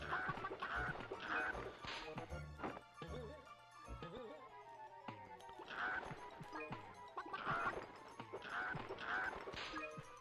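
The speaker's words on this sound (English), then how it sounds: "And then here are the giant chickens I mentioned earlier." Giant chickens in the Gex 3 video game give repeated clucking, honking squawks in bursts, with brief pauses between them, over game music and sound effects.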